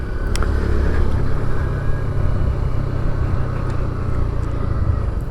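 Motorcycle riding along a road, a steady low engine rumble with constant wind and road noise, moderately loud and unbroken, with no talk.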